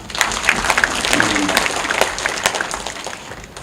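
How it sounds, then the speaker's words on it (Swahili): Audience applause fills the hall at a general meeting of a lawyers' association, a steady patter of many hands clapping without a break, fairly loud and close, with a few louder claps on top. "naomba makofi ya ziada sana."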